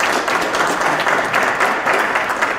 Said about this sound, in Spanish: Recibimos al doctor César de la Cuba Chirinos con un fuerte aplauso.